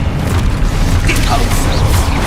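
Spell blasts in Hogwarts Legacy gameplay, a dense run of deep booming bursts and rumbling impacts that keeps going without a break and stays loud and close the whole time.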